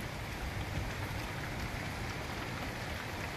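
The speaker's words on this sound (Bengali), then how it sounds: "এই ঝিরঝির করে বৃষ্টি, খালি আকাশটা ডাকছে।" Light drizzling rain falls steadily outdoors, a soft, even hiss of fine drops with no breaks or distinct patters.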